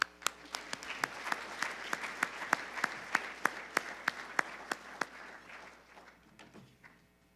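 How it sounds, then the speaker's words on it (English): Audience applause at a donor recognition dinner for a Montana agricultural youth foundation, a room of hands clapping with distinct sharp claps that swell, then thin out and fade over several seconds, heard at a moderate distance. "Let's please give them a round of applause."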